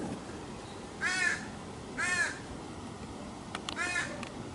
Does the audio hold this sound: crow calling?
yes